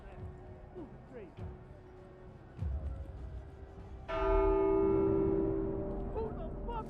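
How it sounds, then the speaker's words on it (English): A church bell rings in The Walking Dead: Saints & Sinners video game, one loud resonant strike with a long sustained ringing decay, heard after earlier quieter thuds and with speech in the background. "Who the fuck rang the bell?"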